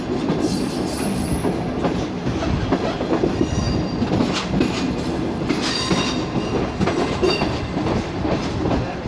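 The Bulleh Shah Passenger train runs on the rails between Lahore and Kasur, heard as a loud, continuous rumble with rhythmic clickety-clack of the wheels and occasional metallic squeals from the cars.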